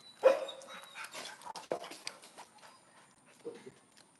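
Dogs on a training walk at Audubon Park bark excitedly in a few sharp, close bursts with whimpering between them, then quieter sounds near the end.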